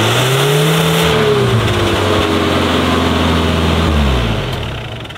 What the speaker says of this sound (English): Let me go ahead and get a cold start.